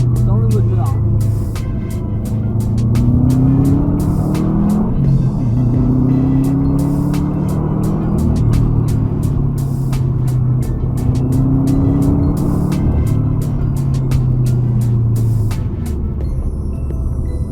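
A blue Subaru's engine revs and rumbles in rising and falling surges as the car accelerates, loud and close, with a person talking over it.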